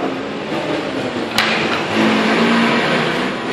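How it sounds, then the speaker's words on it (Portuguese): A steady, loud broadband blowing roar from a heat gun used in paintless dent repair on a car fender crease runs throughout, with a brief click partway and the hiss swelling slightly toward the end. "Já estou com soprador térmico, ó."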